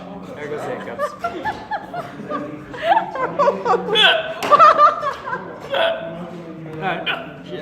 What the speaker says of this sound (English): There goes the hiccups.